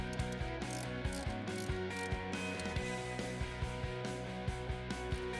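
A ratchet on a deep well socket loosens Bosch glow plugs from an engine, producing quick, steady pawl clicks in a close, even rhythm that runs throughout.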